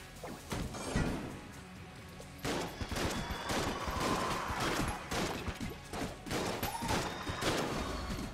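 Dense, continuous gunfire from the video game Enter the Gungeon, with rapid volleys, crashing impacts and bursts layered over game effects, loud and sustained throughout with no talking.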